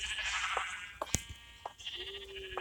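Sheep bleating in Minecraft, several wavering bleats close together with short gaps, loud and clear with no talk.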